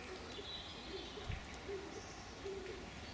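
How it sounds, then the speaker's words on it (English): Wood pigeons coo faintly in woodland at dawn, soft repeated hooting calls at a distance over quiet background hiss. "The wood pigeons are woken up now."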